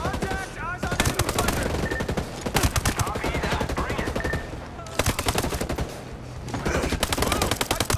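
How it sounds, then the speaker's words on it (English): Rapid bursts of automatic gunfire in the Ghost Recon Breakpoint video game, loud repeated volleys of shots in several long strings with brief pauses between them. "I'm trying to shoot"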